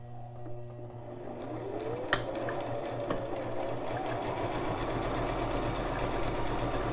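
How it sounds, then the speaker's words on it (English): A Brother LX3817 sewing machine runs a zig-zag stitch in a steady, continuous mechanical whir, close and even, with a faint click partway through and no voices. "Presser foot down, stitch a couple stitches, backstitch, and continue to sew."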